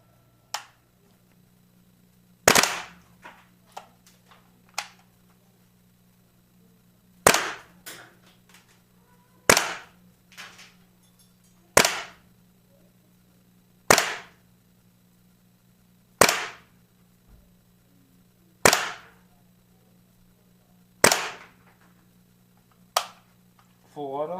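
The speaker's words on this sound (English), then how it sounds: "I'm going to go over to the chrono and we're going to put some rounds through it and see what she's shooting." An upgraded WE L85 airsoft rifle firing single rounds through a chronograph, with about ten sharp, loud cracks at an even, unhurried pace over a steady low hum.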